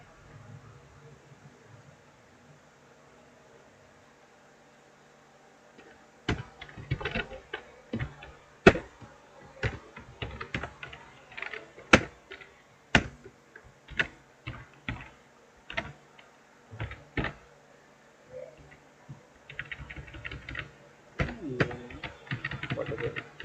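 Code is typed on a computer keyboard, and after a quiet start the close, crisp keystrokes come in bursts and pauses, with soft background hum between them.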